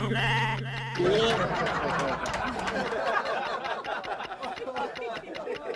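A goat bleats loudly up close at the start, a wavering nasal cry, followed by a busy stretch of overlapping chatter and laughter from several people in a game-show setting.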